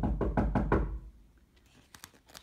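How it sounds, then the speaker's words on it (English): Five quick, loud knocks land on a door at the hen's house in an even rhythm, then fade to a quiet room with a few faint clicks. "We knocked on the door."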